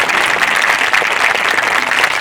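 Loud, sustained clapping from an awards-ceremony audience fills the room close to the microphone, an even, dense rush of many hands without pause.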